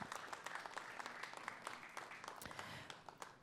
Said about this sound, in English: Give another round of applause for Dr.